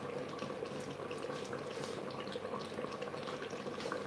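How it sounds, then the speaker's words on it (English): A pot of palm nut soup with chicken and fish bubbles and simmers in a low, steady, soft boil, heard close and alone. "Now the chicken and the fish is cooking properly now."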